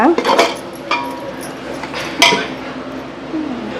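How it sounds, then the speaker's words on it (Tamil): Metal spoon scraping and clinking against a cooking pot as biryani masala with tomatoes is stirred, bright intermittent clinks over a low background hum, with faint talk. "அடி பிடிக்காமல் நல்லா கிண்டுங்க"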